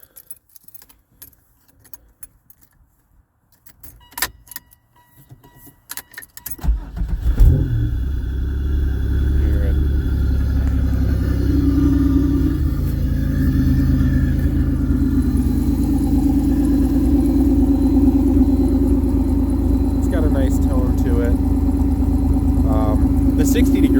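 A supercharged 3800 engine in a 1988 Pontiac Fiero GT cranks and catches after some key jangling, then settles into a steady, loud idle with a smooth, even tone up close.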